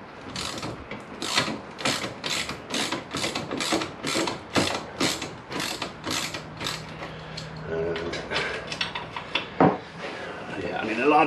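A spanner ratchets rhythmically as bolts are loosened on a 1998 Kawasaki ZX9R motorcycle, a dozen or so even clicking bursts close up, then slower irregular metallic clicks and clunks, with someone speaking briefly.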